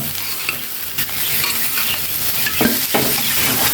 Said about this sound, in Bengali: এবার বন্ধুরা মোচা ও ডালটাকে মশলার সাথে ভালোভাবে মিশিয়ে নিব